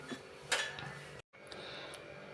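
A spoon scrapes and clinks against a metal pan while carrot halwa is scooped into a bowl, giving a few sharp clinks and scrapes and a brief pause partway through.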